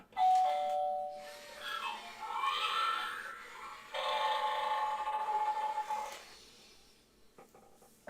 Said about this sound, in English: I'll ring the doorbell for you